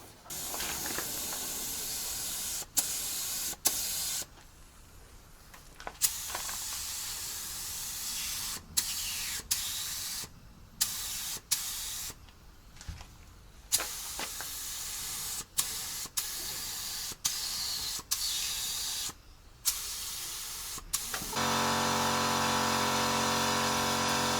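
A spray gun primes the cab of a Volvo FH12 truck in a workshop, long loud hissing bursts in repeated passes separated by short gaps, ending in a steady mechanical hum.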